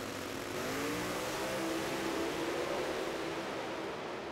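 Pro Mod drag race between a nitrous Ford Mustang and a J&A Service CTS-V supercharged Cadillac: a distant, steady engine roar with a faint rising pitch, heard alone without talk.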